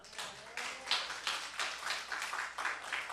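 Church congregation clapping in praise during a Wednesday worship service, uneven bursts of hand claps rising and falling in loose waves, fairly soft and a little distant, no voices over them.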